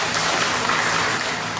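Audience at a FELCRA staff gathering applauds its management, a dense, steady wash of clapping that runs evenly and loudly through the whole short stretch with no speech over it.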